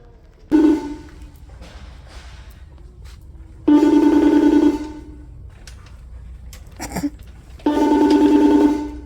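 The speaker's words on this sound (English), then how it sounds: "Yeah, phone ringing." An office telephone rings in repeated bursts, each lasting about a second with pauses between them, clear and fairly close, with a few thumps in the gaps.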